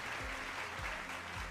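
Applause for Raynor during a live-streamed pumpkin carving session plays as a continuous, even wash of clapping from a crowd at moderate volume with no distinct voices.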